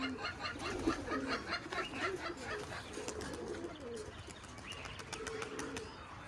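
Old original Giribaz pigeons cooing and murmuring in a loft, several birds overlapping in soft rolling calls, close and moderately quiet, with occasional clucking sounds and faint background noise.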